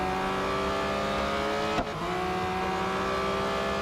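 The 2021 Porsche 911 GT3 in the mobile racing game Real Racing 3 drones at high revs, loud and close, a steady engine tone with a brief thump and dip in pitch partway through.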